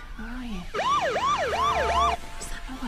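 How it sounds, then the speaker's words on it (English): Wailing emergency sirens sweep up and down in a clear repeating cycle over distant low rumble, loud for about a second and a half after a softer tone before it, during an imagined Yellowstone eruption scenario. "It's sirens. Listen."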